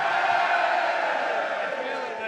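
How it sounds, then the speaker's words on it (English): A live audience at a rugby preview show raises a sustained, fairly loud cheer with whoops and shouting that holds steady and slowly fades. "If you would like Barry John to be our Maverick, give us a cheer."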